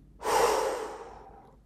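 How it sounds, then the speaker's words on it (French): A strong, forceful exhale during a guided sophrology relaxation exercise, one long breathy rush of air close to the microphone that swells quickly and then fades slowly, with no talking. "et souffler fort"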